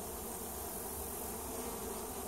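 Honey bees buzz steadily around an open swarm hive laden with honey, a dense, close, unbroken drone with no voices.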